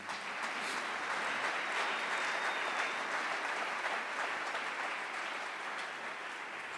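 A church congregation applauds God during a worship service, a dense, steady wash of clapping from many hands that fills the room evenly for several seconds with no speech over it.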